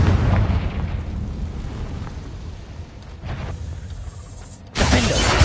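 Confringo fire spell exploding in Hogwarts Legacy, a sustained loud rumbling blast that slowly decays, then a sharp new explosive burst near the end, close and dense.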